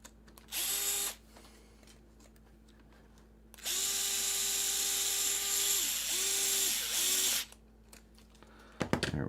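A power ratchet tightens a wheel nut on a bomber-class race car during prep. One short burst of motor whine is followed by a longer run that dips in pitch several times, with quiet shop background between.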